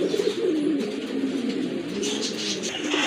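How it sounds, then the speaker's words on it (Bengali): Lahori pigeons, a pair of silver birds with pink beaks, coo steadily throughout at close range, their low rolling calls overlapping in a continuous murmur without any speech. "আরেক জোড়া লাহোরি কবুতর মাশাআল্লাহ"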